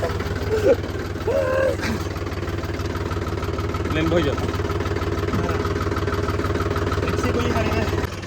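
A tractor engine idles steadily with a low, continuous rumble close by for the whole stretch, while people talk over it now and then.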